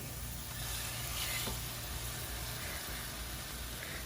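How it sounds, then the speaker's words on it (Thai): Salmon fillets sizzle in hot oil in a pan over medium heat, a steady close frying crackle with no talk over it. "ถ้าหม้อห้อนแล้วก็เอาปลาลงไปดาดเลย"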